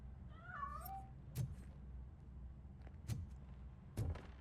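A cat meows in Robocop: Rogue City, a single rising-and-falling meow heard fairly close over a low ambient hum, followed by a few sharp clicks and thuds spaced apart.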